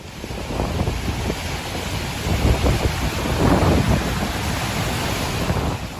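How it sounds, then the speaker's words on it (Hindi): Strong sea waves surge and crash against the seawall at the Gateway of India in Mumbai during a storm, a continuous loud roar of surf and wind with swelling bursts, no voices. "ये आवाज़ उस वीडियो की है जिसमें मुंबई के गेटवे ऑफ इंडिया से समुद्र की तेज़ लहरें टकरा रही हैं"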